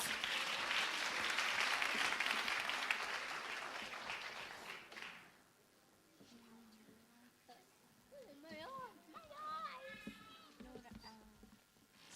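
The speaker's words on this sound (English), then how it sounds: "Let's give them a big round of applause." Audience applause for kindergarten students on stage at an end-of-year celebration, a loud, dense crowd clapping for about five seconds before fading, followed by an adult speaking into a microphone.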